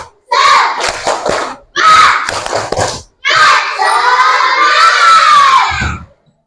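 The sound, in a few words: children clapping and cheering for Alifa Keisha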